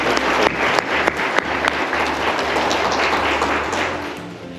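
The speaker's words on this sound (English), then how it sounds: "so he needs some applause" A crowd applauds steadily, dense clapping from many hands filling the room, loud and sustained for a few seconds.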